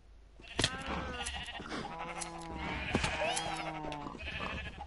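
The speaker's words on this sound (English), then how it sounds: "Wait, there's a sheep in here somehow." Sheep bleat in the Minecraft video game, several wavering calls in a row, moderately loud against a low background hum.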